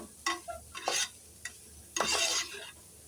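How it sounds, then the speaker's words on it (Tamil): Cabbage is stirred into sautéed chilies in a pan over a low flame, giving a few short scraping, rustling strokes with a soft sizzle underneath, the last burst longer and busier. "நம்ம எல்லாத்தையும் சேர்த்து கிண்டுவோம்."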